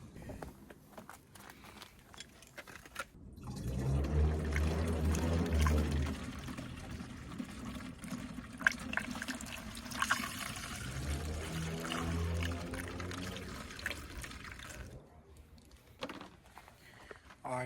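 Coolant poured by hand into a Honda Accord that had been overheating, a steady liquid stream running for several seconds with a trickle tailing off, close by with faint handling noises around it.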